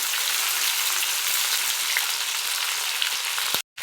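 Chopped onions fry in hot oil in a wok, producing a steady, loud, close sizzle with faint stirring clicks, which cuts off abruptly near the end.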